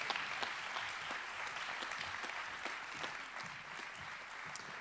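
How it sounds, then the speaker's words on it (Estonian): Sustained applause from an audience at a municipal anniversary award ceremony, a steady crowd of clapping hands continuing evenly at moderate distance with no voices over it. "Ja aplaus ei katke loomulikult."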